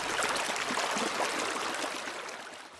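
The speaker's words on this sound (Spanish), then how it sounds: "El murmullo del río y las piedras." A river runs over stones with a steady, broad murmur of flowing water, continuous and fairly close, easing slightly toward the end with no voices.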